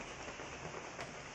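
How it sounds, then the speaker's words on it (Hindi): Heavy rain falls steadily outdoors, a dense constant hiss of drops on surfaces close by, with no voices over it. "बारिश देखो कितनी तेज हो रही है"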